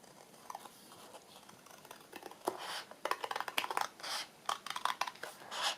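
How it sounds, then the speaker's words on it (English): Scissors cut a paper template with quiet, close snips, sparse at first and then coming in quick irregular bursts of crisp clipping and rustling paper. "And I'll cut that, and then I'll use that as my template for the other one."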